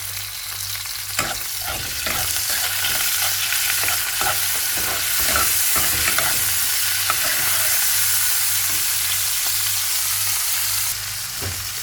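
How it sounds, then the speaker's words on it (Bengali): Prawns fry in a pan with a steady, close sizzle of hot oil, broken by frequent clicks and scrapes of stirring; no one speaks. "চিংড়ি মাছটা ভাজা হয়ে গেছে"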